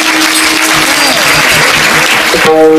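An audience claps continuously at a Marathi kirtan devotional performance, a dense burst of applause filling the space, with a brief musical tone emerging near the end.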